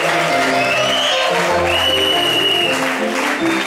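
A church congregation at a Sunday service claps steadily and loudly to welcome guests, with sustained applause under a few voices and cheers.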